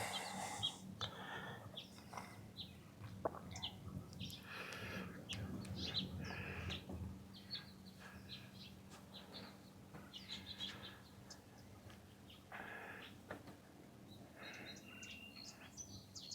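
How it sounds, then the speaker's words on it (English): Birds chirp and call in short scattered bursts outdoors in an old Arizona botanical garden, with a faint steady insect-like hum beneath and no talking. "Do hear a lot of birds out there."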